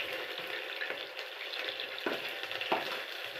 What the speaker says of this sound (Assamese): অলপ সময় পিঁয়াজটো ভাজি ল'ব,